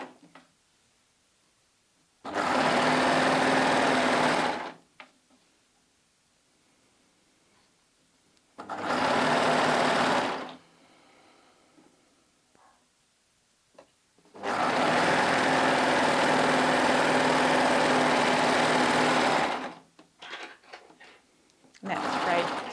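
A coverstitch sewing machine stitches a fabric scarf closed in three loud, steady runs of rapid mechanical whirring, separated by quiet pauses with faint handling sounds.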